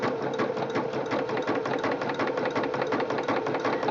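Singer Quantum Stylist 9960 sewing machine running an overcast stitch along a fabric edge with an overcasting foot, a steady close mechanical whir with a rapid rhythmic needle beat throughout.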